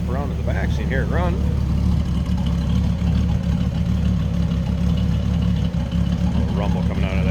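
A 1934 Ford Roadster street rod with a 350 small-block V8 idles with a steady low rumble, close and continuous, while someone talks over it.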